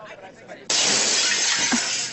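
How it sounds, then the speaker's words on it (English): A mirror is smashed with a sudden loud crash, followed by sustained bright shattering and tinkling glass. Faint voices precede the break. "The patient has smashed the mirror again!"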